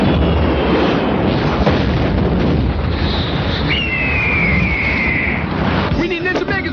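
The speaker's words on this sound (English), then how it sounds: "Rockets away!" Rockets firing and an explosion effect from a Power Rangers movie scene, heard as a loud, sustained roaring blast with a whooshing streak partway through, then a sharper burst near the end, under faint background voices.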